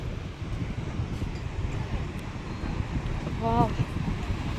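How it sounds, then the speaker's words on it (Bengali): Strong wind gusting across an open sea beach at Tajpur, a steady broadband roar throughout with a brief higher-pitched sound near the end. "কি হাওয়া দিচ্ছে!"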